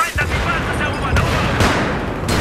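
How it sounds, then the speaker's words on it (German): Explosions and heavy gunfire in the video game Battlefield 3 on a Rush map, a rapid barrage of booming blasts and shots in quick succession, loud and dense over the whole moment. "Das explodiert gleich."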